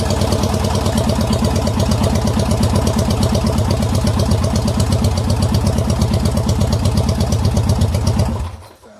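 Yamaha XS650 motorcycle engine idling loud and close, a steady rhythmic chugging of its parallel twin that runs evenly for several seconds before cutting off abruptly near the end.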